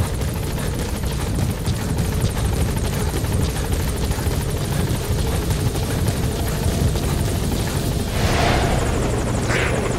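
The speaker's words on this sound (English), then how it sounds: "Support you. helicopter has arrived." Support helicopter arriving in the video game Metal Gear Solid V, a steady loud rotor thrum with whining turbine noise that holds throughout and swells slightly near the end.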